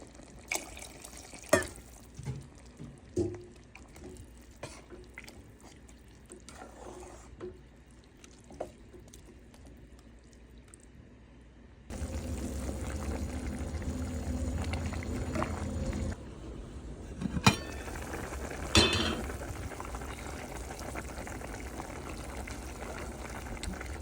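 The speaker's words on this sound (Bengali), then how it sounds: "পরিমাণ মতো আমি একটু গরম পানি দিয়ে দিচ্ছি" Hot water is poured into a pan of cooking Malabar spinach greens and prawns, giving a fuller watery rush midway after quieter stirring and light clatter.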